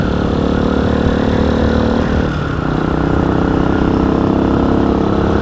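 A Hawk 250 Enduro motorcycle engine drones steadily and loudly while riding a desert road, with constant rumble and wind noise and a brief dip in pitch partway through.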